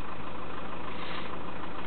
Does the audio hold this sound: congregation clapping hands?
no